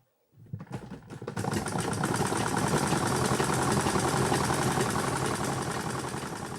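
A sewing machine stitches a garment, starting after a brief near-silence and then running in a steady, continuous mechanical whir with fine rapid needle rhythm, fairly loud and close throughout.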